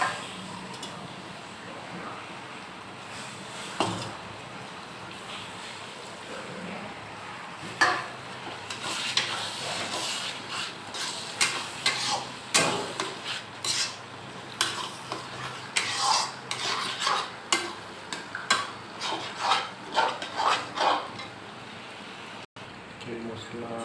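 Tomatoes frying with masala in a pan while a spoon stirs and scrapes, soft sizzling under repeated clinking strokes that grow busier midway, close by, with a voice talking over parts of it.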